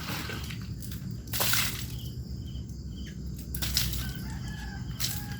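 A rooster crows and birds cluck nearby, with bursts of wing flapping breaking through a steady low background.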